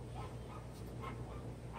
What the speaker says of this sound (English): I don't know what in the world he's barking at.